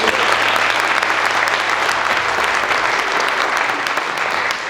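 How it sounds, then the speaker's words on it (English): Sustained applause from an audience at a high school visual arts festival, steady dense clapping filling the room throughout without a break. "Round of applause for Burnsville."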